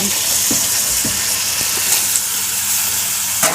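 Chicken pieces fry in masala in a pan, producing a loud, continuous sizzling hiss with soft, irregular thumps of stirring throughout.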